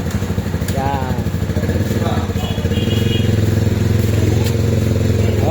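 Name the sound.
Rusi Flash 150 motorcycle engine running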